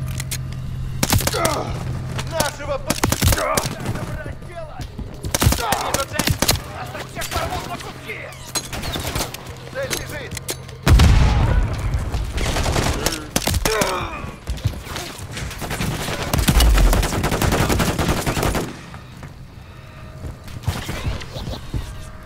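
Rapid bursts of turret and automatic gunfire rattle through a Call of Duty Modern Warfare battle, loud and close, with heavy thuds and explosions between volleys and a voice talking over the action.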